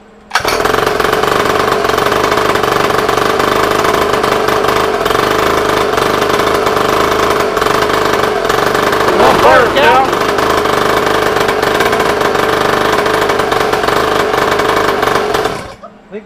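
A scooter's small engine runs steadily throughout at a fast, even putter, loud and close. Near the middle a brief rising whine sits above it, and the engine cuts off at the end.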